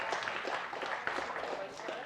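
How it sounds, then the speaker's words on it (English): An audience at a talk on Cyber Congress history claps for the speaker, a dense, steady patter of applause that holds for the whole stretch. "let's give a round of applause to Dima"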